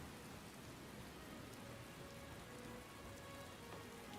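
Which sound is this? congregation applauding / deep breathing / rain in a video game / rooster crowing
rain in a video game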